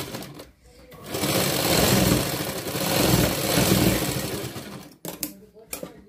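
A sewing machine stitching a blouse seam runs in a loud, steady mechanical whir for about four seconds, briefly slowing midway, then stops, followed by a few short clicks and bumps of handling the fabric.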